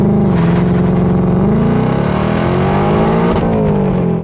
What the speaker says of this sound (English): there's still a little bit of wheel hop there